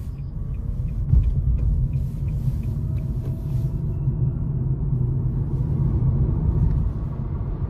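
A 2023 Nissan Leaf S electric car accelerating hard from inside the cabin, a steady low road rumble and tyre noise building continuously with faint whine, no engine revving, no talk.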